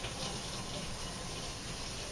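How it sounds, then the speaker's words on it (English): Water from a kitchen tap runs steadily as hands are rinsed after shaping bread dough, a continuous close rushing splash with no voices. "Let me rinse my hands very quickly here."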